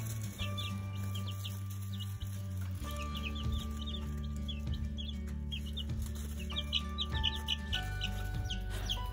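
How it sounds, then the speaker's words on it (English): A backyard flock of chickens clucking and chattering close by, repeated short clucks and calls overlapping over a constant low hum. "We got 6 more chickens."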